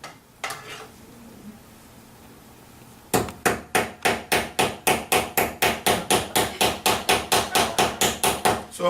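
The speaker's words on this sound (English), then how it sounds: "if you're ever short on hammers, you can always freeze a banana with liquid nitrogen" Banana frozen solid in liquid nitrogen used as a hammer, striking about twenty sharp, evenly spaced knocks in a fast steady rhythm, loud and close, after a few scattered clatters and quiet handling.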